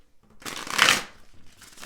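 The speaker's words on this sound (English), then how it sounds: "Let me shuffle really quickly and see what's going on with the two of you." Tarot cards are riffled in one quick, close shuffle that swells to a crisp flutter before fading.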